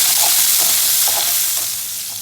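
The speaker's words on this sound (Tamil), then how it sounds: "இப்போ எல்லாத்தையுமே சேர்த்து நம்ம நல்லா வதக்கிக்கலாம்." Green chillies, tomato and curry leaves sautéing in a pan give a loud, continuous sizzle with a few soft stirring scrapes, easing slightly toward the end.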